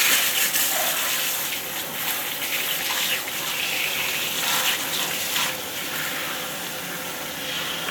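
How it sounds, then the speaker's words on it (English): Warm tap water running steadily while permed hair is rinsed, a continuous splashing gush with slight shifts as the stream hits hair and basin, close and fairly loud. "start to rinse with warm water."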